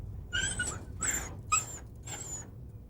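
A dog whimpers while searching, four short, high-pitched whining cries spaced about half a second apart, fairly close, over a low background rumble.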